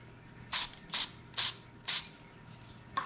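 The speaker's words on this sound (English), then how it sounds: "So now just spray it straight in there." Four short, sharp hissing bursts of spray paint at an even rhythm, close up, with quiet pauses between, and the start of a fifth at the end.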